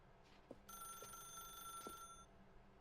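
A telephone rings in the video game The Stanley Parable, a steady electronic ring lasting over a second, clear against a low background hum.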